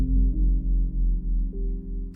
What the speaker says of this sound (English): So in this case, it's just the piano and the bass